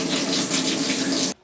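Water sprays steadily in a dense hiss, like a running shower, then stops abruptly.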